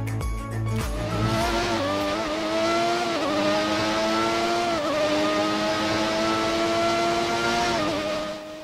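Formula 1 race car engine screaming around Suzuka in the F1 2019 racing game, a loud sustained high-pitched whine holding steady with small gear-change dips after a brief opening shuffle.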